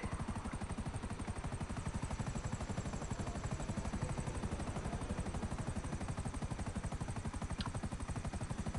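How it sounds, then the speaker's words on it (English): A helicopter with a shattered window in GTA V flies with a steady, fast rotor chop, an even pulsing thump that runs throughout at moderate, constant volume with no talk over it. "with that shattered window, this chopper would not be allowed to fly"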